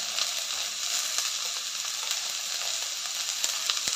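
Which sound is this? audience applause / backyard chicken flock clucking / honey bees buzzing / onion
onion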